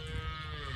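A single short, low moo from a cow on a farm that keeps imported American cows and buffalo, close and fairly clear against a faint background hum.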